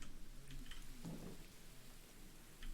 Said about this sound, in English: it is raining and we are around here